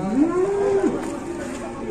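A single loud moo from a giant cow at a market, a long rising then falling bellow close by, over steady low background rumble.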